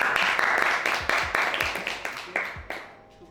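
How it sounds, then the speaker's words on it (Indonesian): Crowd applause at a university outdoor-club gathering in Indonesia, starting as a full wash of clapping and then breaking into distinct, spaced claps that fade out. "Tepuk tangan dong."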